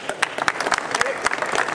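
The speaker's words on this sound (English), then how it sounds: "Let's give these guys a round of applause" Crowd applause at a Warrior Expo East 2011 demo, a dense spread of clapping with sharp individual claps popping out over a steady wash, fairly close and continuous.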